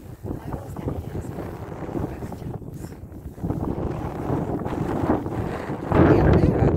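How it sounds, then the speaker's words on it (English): Strong wind buffets the microphone in a steady low roar, gusting louder toward the end. "Very windy today."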